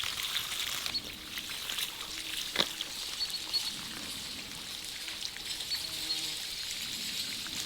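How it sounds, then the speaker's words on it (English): Water pumped from a reservoir outflow pours through a pipe into a swale pond, a steady, moderate trickling gush that continues throughout with a faint outdoor background. "the water can be pumped from the outflow of the water reservoir into the pond of the swale"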